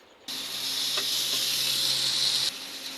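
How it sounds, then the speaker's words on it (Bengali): Eggplant slices fry in hot oil, giving a steady close hiss that starts abruptly, holds evenly for about two seconds, then drops away, with no talking. "এদিকে তো বেগুন ভাজা হচ্ছে"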